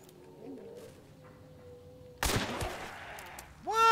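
A single sharp gunshot in the video game Hunt: Showdown, a close, loud crack partway through, with faint game ambience before it and a brief tonal chime right after.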